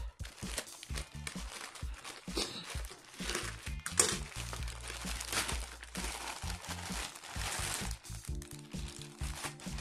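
A tough plastic shipping package holding baby bibs is crinkled and torn open up close, with crackling rustles and sharp bursts of tearing that come and go throughout.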